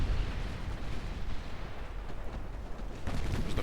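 Naval 14-inch and 12-inch guns fire in a video game, a dense, loud rumble of overlapping booming blasts that swells again near the end.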